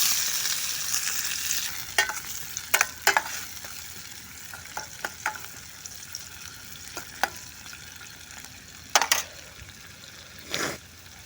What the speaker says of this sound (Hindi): एबे आमे तेलटा पकेदबा। एबे आमे पियाज पकेदबा।